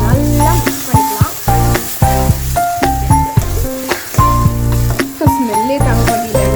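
Ground tomato paste hits hot oil and sizzles loudly and continuously, with sharp spitting bursts and a voice speaking over the frying.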